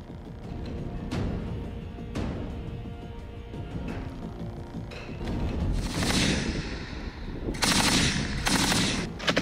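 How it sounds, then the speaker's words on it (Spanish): A combat vehicle fires continuously at a Russian position, producing repeated sharp bursts of automatic gunfire at a moderate distance, with louder rushing blasts and booms in the later seconds. "Esto lo hacen con un vehículo de combate, como recién estábamos viendo, y dispara de esta forma incesantemente."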